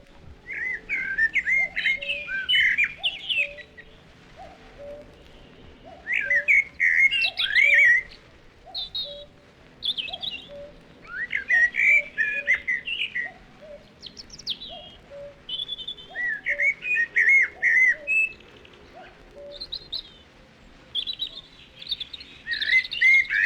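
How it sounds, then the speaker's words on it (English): A cuckoo calls in an April woodland, its low repeated notes sounding steadily under a busy chorus of chirping and whistling songbirds. "The cuckoo also arrives in April and can still be heard calling in some woods"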